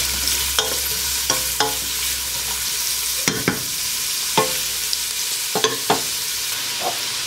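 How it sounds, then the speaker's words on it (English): Chopped celery and white onion sauté in a pan for Cajun/Creole rice. A steady soft sizzle runs throughout, broken by about a dozen sharp scrapes of a utensil stirring against the pan. "A little bit of celery. Some white onion. And we're going to let these cook until everything softens."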